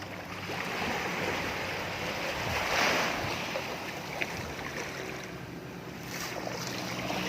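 Steady wash of water close by, a continuous broadband rush with a brief swell in the middle, like surf running up onto a shore.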